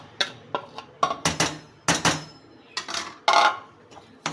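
A spoon clatters and scrapes against a metal pan as semolina and wheat flour are stirred for desi ghee halwa, giving irregular sharp knocks and clinks up close with brief quiet gaps between strokes.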